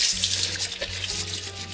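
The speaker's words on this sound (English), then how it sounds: "I'll wash them a little bit just because mushrooms are kind of gross. So I like rinsing them." Mushrooms get rinsed under a kitchen tap running warm-to-cold water, a steady close splashing stream into the sink with no talk over it.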